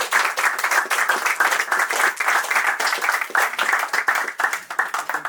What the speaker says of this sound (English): a hand of applause for the filmmakers